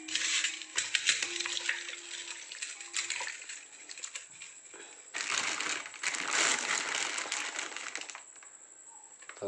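Fresh raw chicken being washed in water in a kitchen, with faint splashing, sloshing and handling noises in irregular bursts and a louder run of swishing in the second half.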